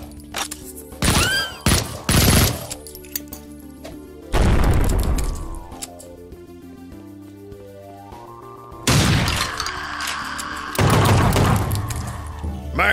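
Heavy magnum gunfire in the first-person shooter Project Warlock: several loud, sharp booming shots in bursts, with crashes and a steady game backdrop between them.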